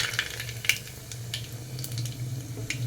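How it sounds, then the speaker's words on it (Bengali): Black cumin and dried red chilli crackle in hot oil as a tempering for lentil dal, a soft continuous sizzle broken by sharp pops and a low background hum, close by and free of talk. "কালো জিরে আর শুকনো লঙ্কা ফোড়ন দিয়ে দিলাম"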